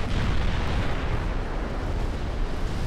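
A torpedo strikes an American battlecruiser in the naval game Ultimate Admiral Dreadnoughts, and a loud, sustained roaring explosion rumbles steadily throughout with no clear break.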